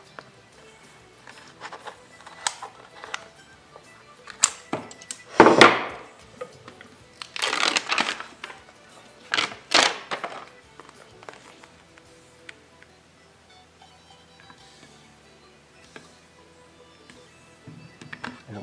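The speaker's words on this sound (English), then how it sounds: "I'm just gonna cut along this ridge" A blade cuts along a ridge in soundproofing material, giving a few loud rasping, crackling bursts mixed with scattered taps and handling noise, close and without talk.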